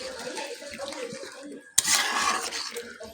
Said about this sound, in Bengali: এই যে জল দিব, হয়ে গেছে, পরিমাণ মতো জল দিয়েছি।